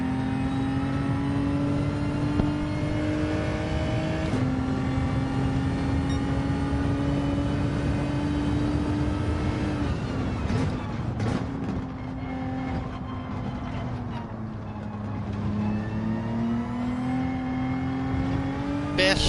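Racing car engine in Gran Turismo 7 droning and revving through gear changes in third gear, a loud continuous whine that drops and climbs again several times.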